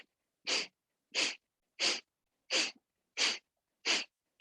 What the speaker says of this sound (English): Sharp, quick exhales through the nose, clearing that navel cavity.